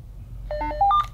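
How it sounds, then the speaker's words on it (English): A Motorola RDU4160D two-way radio entering programming mode gives a quick chirping pattern: a short run of bright electronic tones stepping up and down in pitch, close and clear over a low background hum. "We'll get that unique chirping pattern."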